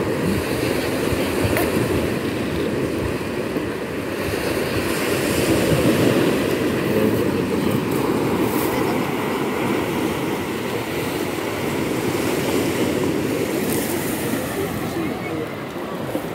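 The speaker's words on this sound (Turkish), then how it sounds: "Akşam saatine doğru dalga çoğaldı." Sea waves surging onto the shore at Gazipaşa in the evening, a continuous loud roar of surf with broad, steady wash throughout and no distinct breaks between swells.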